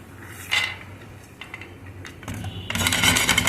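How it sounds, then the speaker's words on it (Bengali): Peanuts roasting dry in a pan for idli chutney, with intermittent scraping and rattling of nuts against metal, a brief clatter early and a denser, louder sizzling rattle toward the end. "ইডলির চাটনিটা বানানোর জন্য প্রথমে বাদামটা একটু রোস্ট করে নেওয়া হবে শুকনো"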